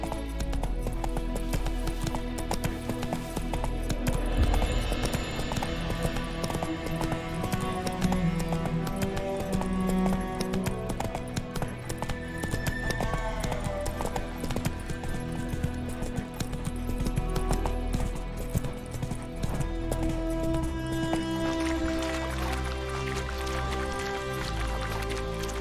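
Roach, the horse in The Witcher 3, gallops as rhythmic hoofbeats under a layer of game music and ambience, with an occasional whinny and no talk.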